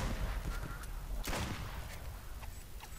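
Honking duck calls from the Duck Season video game ring out at moderate level over a steady background hum, with a sharp gunshot-like burst in the middle and a couple of quieter calls toward the end.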